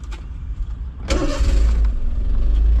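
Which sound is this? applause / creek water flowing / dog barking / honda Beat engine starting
honda Beat engine starting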